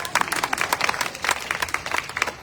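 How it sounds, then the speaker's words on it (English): Applause from an audience at a community election forum, honoring students, a dense patter of claps that swells and dips over a couple of seconds with a few voices mixed in. "We can clap louder for our students."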